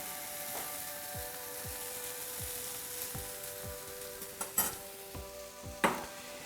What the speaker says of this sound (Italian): I funghi stanno tostando, quindi vi aggiungo anche un po' di pepe nero